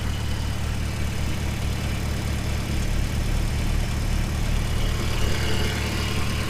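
A car engine idles steadily and evenly, freshly started and still cool, with a water temperature gauge newly fitted; a continuous low hum and rumble runs throughout with no talk.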